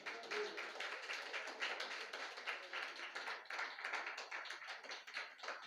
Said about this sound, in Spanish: Si yo fuera tú, diera un aplauso fuerte al Señor.